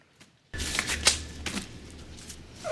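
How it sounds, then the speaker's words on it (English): Latex surgical gloves snap on during a tense hospital-style drama scene: a burst of sharp, close rubbery snaps and rustles after a brief quiet start. "Things become clear again to the sound of surgical gloves snapping"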